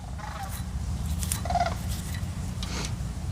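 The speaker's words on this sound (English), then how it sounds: "We have the sandhill cranes overhead right now." Sandhill cranes call overhead outdoors, a few rolling, rattling cries rising over a steady low background rumble.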